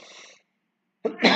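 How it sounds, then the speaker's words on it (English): A single sharp cough close to the microphone, breaking through after a short stretch of silence and quiet talk at the start. "sorry for the cough"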